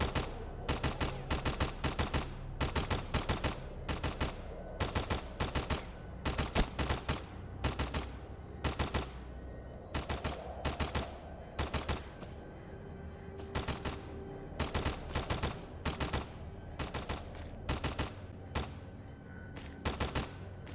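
Gunfire in the video game STALCRAFT, a long run of sharp, evenly spaced shots in steady bursts, crisp and close, continuing without letup for about twenty seconds.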